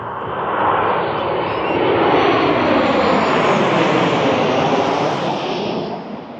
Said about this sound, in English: So if loud planes bother you,